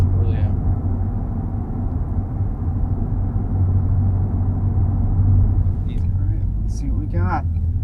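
Low, steady exhaust drone from a Ford Fusion Sport fitted with an MRT Version 2 axle-back, rumbling continuously for the whole stretch, with brief voice sounds near the end.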